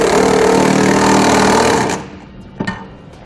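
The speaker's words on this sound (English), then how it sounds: "We'll now use a 3/4 inch socket to tighten down all of our hardware." A tool with a 3/4 inch socket tightens TorkLift tie-down hardware on a 2018 Ram 3500. It gives a loud, steady buzzing run of about two seconds, then cuts off, followed by a couple of faint clanks.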